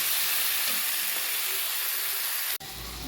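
Tomatoes frying in a pan give a continuous hissing sizzle, close and even, cut by a sharp click and a sudden change in the sound near the end.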